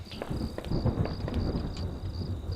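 A low, rolling rumble of video game thunder sounds over a steady hiss of rain and faint chirping, with no voices.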